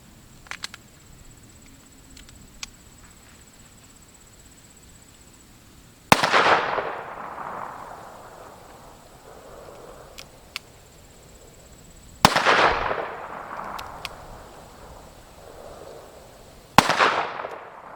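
Three sharp gunshots from a Chiappa Rhino .357 revolver fired single action, spaced several seconds apart, each a loud crack followed by a long outdoor echo that fades away, with faint handling clicks in between.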